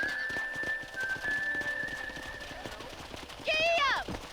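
Horse hooves clip-clopping in Red Dead Redemption, a quick steady trot of close hoofbeats, with a whistle-like tone running above and a short whinnying sound near the end.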